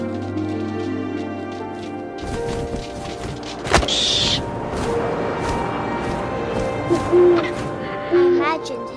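An owl hoots in the video game What Remains of Edith Finch, a few soft low calls over a droning wind-like ambience, with a sharp knock and a brief whirring sweep partway through.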